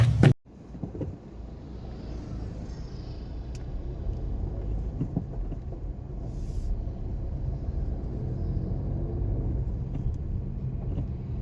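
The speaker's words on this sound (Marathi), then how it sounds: "गाडी स्टार्ट कर." A car engine cranks with a sharp burst, catches, then settles into a steady, loud rumbling idle that holds for several seconds with no one talking.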